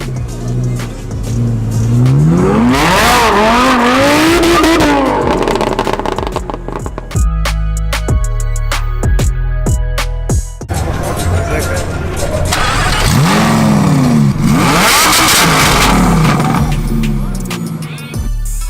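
Burnout at the Royalty Exotics car meet, with a car engine revving hard in loud rising and falling sweeps and a harsh roar of tire noise, with crowd voices shouting over it throughout.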